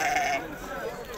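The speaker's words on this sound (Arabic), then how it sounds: "خرفان تبارك الله ملاح اللهم بارك" A sheep bleats at a Tuesday livestock market in Azrou, Morocco: a short, close bleat opens the moment, then fades into a busy murmur of market voices.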